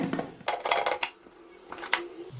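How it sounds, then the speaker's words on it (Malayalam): Pressure cooker lid being closed in a kitchen while making Mambazha Pulisseri, a short cluster of metallic clinks and scrapes followed by a single sharper clack, close and fairly quiet. "ഇനി നമുക്ക് കുക്കർ അടച്ച്"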